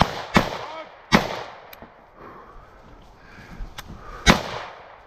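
Rifle shots crack on a Canadian Army infantry live-fire range: four sharp, loud reports spaced irregularly, with a couple of fainter distant pops and quiet gaps in between.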